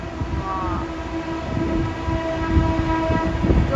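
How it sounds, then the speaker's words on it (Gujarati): A train passes near a cow shelter, a close, steady rumble of rolling wheels carrying a sustained horn-like tone, with faint talk in the background. "અહીંયા ટ્રેન નીકળી."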